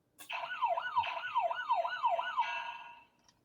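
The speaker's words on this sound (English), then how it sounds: "This time now I have Ash Ketchum yelling boom, boom, boom with the siren." A toy siren sound effect, a rapid warbling wail that rises and falls about six times in quick cycles, then fades out. Fairly faint and tinny, with no talk over it.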